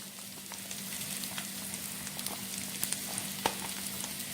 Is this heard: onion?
yes